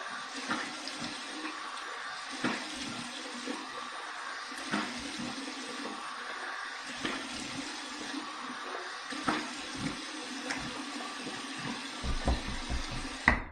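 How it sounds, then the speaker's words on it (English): Cold tap water runs steadily into a sink during a rinse after a safety razor shave, a soft continuous splash with occasional louder splashes from hands in the stream. "here's my cold water rinse"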